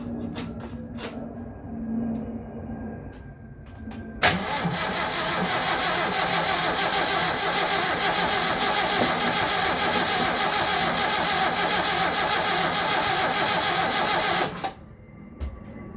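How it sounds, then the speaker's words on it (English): A 1968 Datsun 1000 pulled from a shed, on choke, cranks briefly and bursts into life, then runs at a loud, steady high idle for about ten seconds before cutting off abruptly; a few faint clicks come before the start. "But I will give it a little bit of choke, try and start it."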